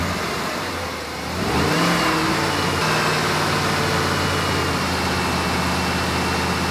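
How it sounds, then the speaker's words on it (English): A Jeep engine revs up to about 2,000 RPM after a brief dip, then holds a steady, loud, close drone with no talking. "Now we'll turn everything off and we'll rev it up."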